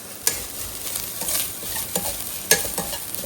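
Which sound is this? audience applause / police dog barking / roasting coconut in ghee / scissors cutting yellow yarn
roasting coconut in ghee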